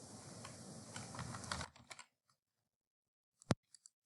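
Keystrokes on a computer keyboard entering a name into a form, rapid dense clatter for about two seconds, then silence and a few isolated taps near the end.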